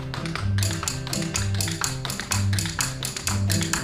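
Rapid clackety tapping from a performer imitating a cow rubbing its hooves up and down its rib cage, heard at a live theatre show. The taps come in quick bursts, loud and close, with a low droning tone underneath.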